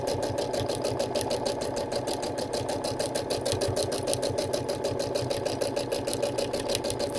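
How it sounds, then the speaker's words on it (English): A Brother sewing machine runs steadily while free-motion quilting a stipple, its needle hammering in a fast, even rhythm with a constant motor hum, close and continuous with no pauses. "What I'm doing is called a stipple or a meander."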